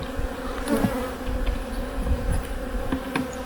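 A dense swarm of honeybees of the Jangwon strain hums steadily and close at an apiary hive being checked for winter, a continuous droning buzz with no voices.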